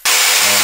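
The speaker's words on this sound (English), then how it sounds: "So starting with a chainsaw." A chainsaw runs for a headset microphone test, a sudden loud burst of harsh, hissing engine noise that starts abruptly and holds steady through the brief moment.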